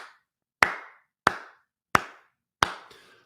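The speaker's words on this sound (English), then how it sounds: "Let's give her a slow clap." Four slow, deliberate single handclaps spaced evenly about two-thirds of a second apart, each sharp and close with a short room echo, in an otherwise quiet space.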